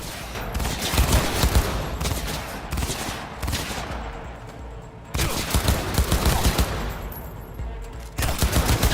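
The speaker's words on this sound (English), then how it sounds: "The gunshots, sword fighting and explosions are crystal clear with realistic touch" Rapid gunfire and explosions from first-person combat in Cyberpunk 2077, a dense continuous barrage of shots with booming blasts, loud throughout with no talking.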